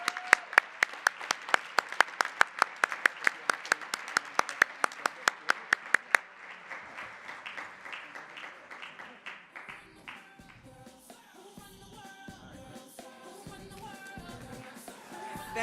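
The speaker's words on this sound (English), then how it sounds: "Let's give everyone a giant round of applause" Audience applause at a public health talk: a burst of sharp, rhythmic group clapping that turns into a denser, looser round of applause and then gradually thins out, with faint murmuring at the end.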